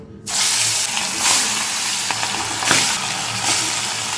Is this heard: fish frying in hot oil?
yes